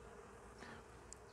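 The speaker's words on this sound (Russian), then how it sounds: "Пчелы уже роятся." Honeybees buzz around a Kenyan top-bar beehive during swarming season as a soft, continuous drone, with one insect passing close and briefly louder.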